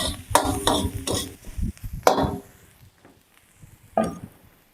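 Dried chillies and plenty of garlic stir-fried in a hot pan for Thai beef pad kra pao, with a run of rhythmic scraping strokes, a sharp clatter and sizzling between them, close and fairly loud.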